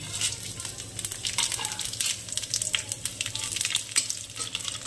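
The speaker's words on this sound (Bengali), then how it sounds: "জিরে, তেজপাতা, গোলমরিচ, এলাচ, দারচিনি, শুকনো লঙ্কা মশলাটা ভেজে নেব" Whole spices including cumin, bay leaf, black pepper, cardamom, cinnamon and dry red chilli fry in hot oil in a wok, giving a steady close sizzle with crackles and scraping stirs throughout.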